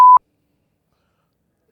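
A censor bleep in a podcast conversation, a single short, loud pure tone lasting under a quarter second, followed by silence.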